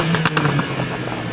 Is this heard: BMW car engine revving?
yes